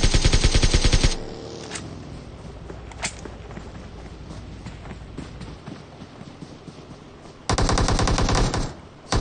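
Rapid automatic gunfire in the BGMI battle royale game comes in loud bursts at the start and near the end, with quieter scattered shots and game ambience between them.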